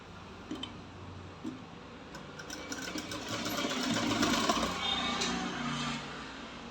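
A sewing machine stitching along the folded edge of a pillow cover, a steady close whirring run with a faint ticking that swells slightly louder midway and continues for several seconds without talk.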